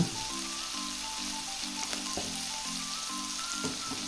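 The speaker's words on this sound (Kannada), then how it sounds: "ಟೊಮೆಟೊ ಹಾಕಿ ಹುರಿಬೇಕು" Tomatoes and green chillies fry with a pinch of turmeric in an oiled pan, giving a steady close sizzle broken by soft, regular stirring scrapes.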